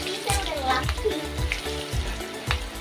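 Chicken lollipop pieces deep frying in hot oil give off a steady, close sizzle with soft bubbling pops throughout.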